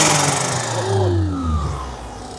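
A Perodua Kancil engine tuned to 250 Nm idles while still cold, a close, loud, rough mid-pitched drone with a slight rev swell that settles back down, no voices.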